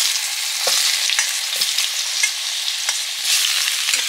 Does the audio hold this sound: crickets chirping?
no